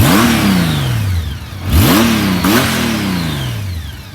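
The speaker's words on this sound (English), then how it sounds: "I'll give it a quick little rev." Honda F6B Goldwing motorcycle engine revving three times in quick succession, each blip rising sharply in pitch then falling back toward idle, loud and close with no talk.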